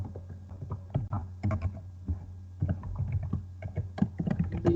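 Typing a printf line of C code on a computer keyboard, close and fairly quiet, with irregular bursts of key clicks broken by short pauses.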